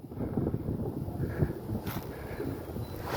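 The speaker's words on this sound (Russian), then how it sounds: "Сильный ветер, сильный, я скажу." Strong wind blowing outdoors near a house, a continuous rushing, gusty roar throughout with no voices.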